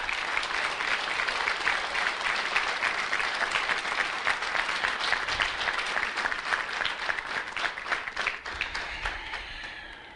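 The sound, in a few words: church congregation applause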